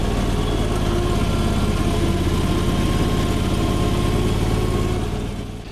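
The small engine of a Chinese AGT LRT23 (Rato R740) mini skid steer runs at a steady, loud idle with constant mechanical vibration, close up and alone, easing off slightly at the end.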